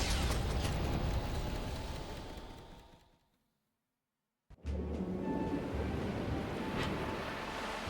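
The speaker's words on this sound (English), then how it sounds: "I'll get us through these waves to Virga Island gently as can be." Ocean waves wash steadily around a sailing ship in the fantasy game Metaphor: ReFantazio, a loud broad roar that fades out to near silence, then returns just as strongly after a sharp hit.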